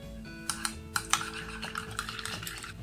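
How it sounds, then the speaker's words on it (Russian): Spoon clinking against a bowl while egg whites are stirred with mayonnaise, sour cream and garlic, producing a series of light taps and scrapes over faint background hum. "И все тщательно перемешиваю."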